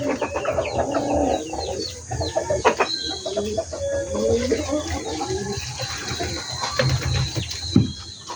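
Several chickens cluck and chatter close by in an irregular, busy stream, with a rooster's crow and light splashing of water being poured into drinkers mixed in.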